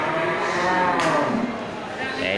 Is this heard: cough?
no